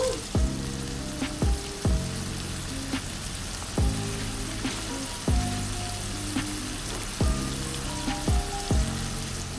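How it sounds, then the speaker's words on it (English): Bacon fries in oil with a continuous sizzle, broken by repeated sharp knocks and scrapes of a utensil against the pan at irregular intervals, close up with no talking. "let's put a little bit of oil. Then let's fry the bacon."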